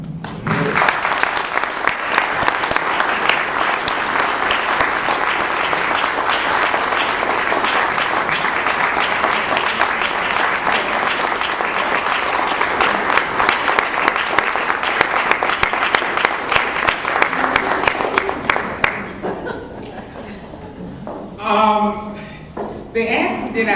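A crowd applauds warmly to welcome an Ohio State Representative at a Cleveland Heights gathering, with loud, sustained clapping for nearly twenty seconds before it fades and a voice begins speaking.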